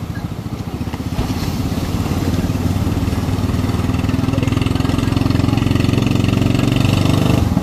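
A small boat's engine drones steadily up close, a rough, rapidly pulsing putter that grows slightly louder over several seconds and runs alone without talk.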